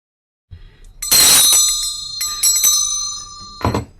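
A hand bell rung once with a bright, ringing clang that sustains and decays over a few seconds, followed by a second shorter strike near the end; no talking, in a quiet indoor setting.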